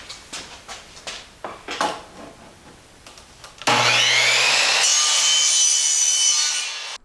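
One-inch PVC pipe cut into short lengths: several scraping, rasping strokes at first, then a loud, steady, close-up cutting whine that holds for a few seconds and then fades a little.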